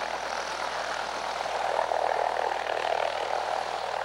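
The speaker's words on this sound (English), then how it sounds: "there's a helicopter lit over in our schoolyard" A helicopter hovering over a schoolyard in early 1990s home-movie footage produces a steady, continuous rotor and engine drone that holds fairly loud and even throughout, with no voices.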